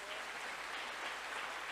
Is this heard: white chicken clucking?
no